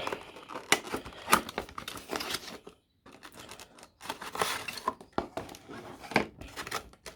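Cardboard box and plastic wrapping of a boxed Phoenix or Gemini Jets aircraft model being opened up close, with repeated crinkling, tearing and rustling bursts that stop briefly midway and then resume.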